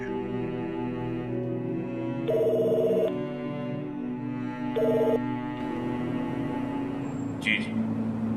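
A telephone rings in two short electronic bursts, the first about a second long and the second briefer, over a sustained tonal background in an indoor scene.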